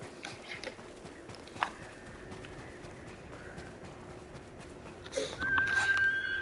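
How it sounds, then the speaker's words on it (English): Horse hooves clip-clop in a video game, a steady faint patter under game ambience, with a brief louder snort-like burst and rising noise near the end. "That's my horse."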